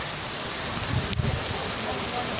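Steady, dense rain roars with a gusty wind rush during a storm, a continuous heavy wash throughout with a brief swell midway.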